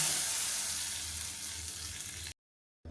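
A South Indian tempering of mustard seeds, cumin, dried red chili, curry leaves and asafoetida sizzles in hot oil for a drumstick-leaf sambar, a loud, dense, continuous frying hiss that cuts off abruptly near the end.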